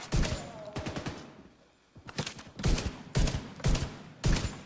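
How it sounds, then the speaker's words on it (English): Gunfire in the shooter video game The Division 2 during a firefight in a library, a series of sharp, loud shots in quick bursts with a short lull in the middle, then several evenly spaced single blasts. "Nice, three shots and dead."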